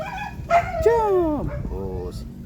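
A dog yelps and whines in a few quick, high, sliding cries up close, mixed with a person talking nearby in a playful home setting with cats.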